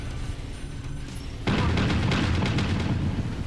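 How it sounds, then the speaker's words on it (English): An ammo explosion erupts in a mech combat video game, a sudden loud boom followed by a dense rumbling spray of popping blasts that keeps going after the first hit. "That's an ammo explosion. See how it like fired everywhere?"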